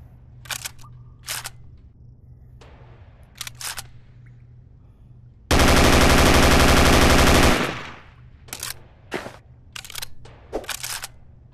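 An EF-88 rifle, an AUG-style bullpup with a waffle-pattern magazine, fires in the Gun Club VR game: scattered sharp single shots, then a loud sustained two-second burst, followed by more spaced cracks.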